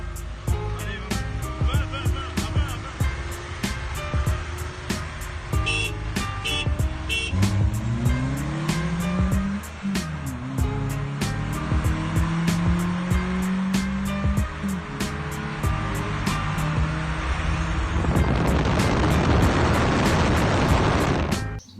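A Honda Accord CB3 car drives with a steady, loud engine note, its pitch rising and falling through gear changes, and sharp clicks and bumps scattered over the run; the engine roars harder toward the end.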